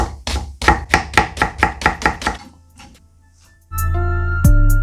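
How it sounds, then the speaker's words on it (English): A knife chops through an onion on a cutting board in about ten quick, even, close thuds while it is thinly sliced for lamb kebabs, followed by a short pause and then a steady humming tone. "Just cut the onion in the middle. Thinly slice this."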